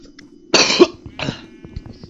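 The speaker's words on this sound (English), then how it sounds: "Oh man, I've been coughing for so long now." Two harsh coughs from a person, the first loud and close, the second shorter and weaker a moment later, over a quiet background.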